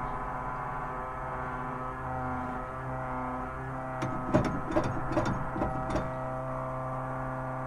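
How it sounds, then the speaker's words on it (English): Electric fuel pump running in a Jaguar XJS V-12 track car, a steady low droning hum with tonal harmonics, joined midway by a short cluster of clicks and rattles before settling back to the constant whir. "we can hear the fuel pump starting to load down"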